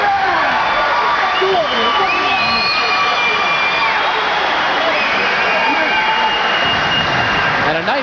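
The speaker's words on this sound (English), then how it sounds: "And a nice round of applause from the fans here at the Villa Roma" Boxing fans applaud at the Villa Roma after a bout, a steady wash of clapping and crowd noise filling the whole stretch, with a commentator speaking over it.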